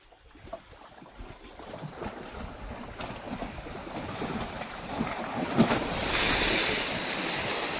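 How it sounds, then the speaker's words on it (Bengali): A boat is pushed into river water at the Marichjhapi jungle site. Splashing and rushing water swell steadily over several seconds from quiet to a loud, continuous wash, with wind noise on the microphone. "এবার নৌকাটা নামাবো।"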